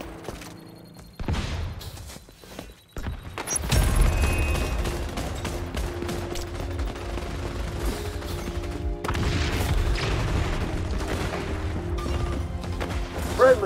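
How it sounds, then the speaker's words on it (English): A flashbang grenade goes off in the shooter game XDefiant with a sudden loud burst, followed by a steady barrage of gunfire and other combat noise that stays dense until the end. "Flashbang, out!"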